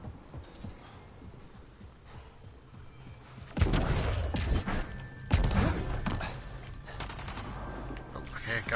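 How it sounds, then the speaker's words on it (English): Gunfire from a sci-fi shooter game, Mass Effect: Andromeda: after a quieter stretch of low murmuring, loud bursts of rapid shots break out in clustered volleys, separated by short pauses. "Oh, okay, a gunshot still."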